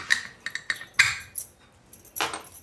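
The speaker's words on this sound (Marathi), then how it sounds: "आपण आता शिटी ही बघा ही काढणार" A whistle being lifted off a pressure cooker while making jaggery kharvas gives a few sharp, close metallic clinks and clatters, spaced irregularly with quiet gaps between them.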